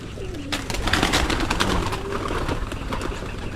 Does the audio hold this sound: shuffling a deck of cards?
no